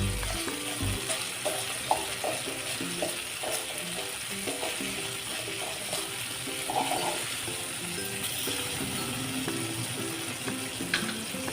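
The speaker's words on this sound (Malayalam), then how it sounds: "ഇത് നന്നായിട്ടൊന്ന് കരണ്ടി ഉപയോഗിച്ച് തന്നെ ഒന്ന് ഉടച്ചു കൊടുക്കാം." Cheera leaf curry mashed with a ladle in a pan, giving a steady moist sizzle and soft wet scraping that continues throughout without talk.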